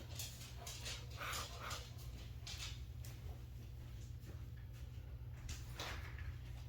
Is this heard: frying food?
no